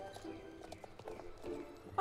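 Horse hooves from the video game Star Stable Online, a quick run of light clip-clop steps at a walking pace, fairly faint against a quiet background.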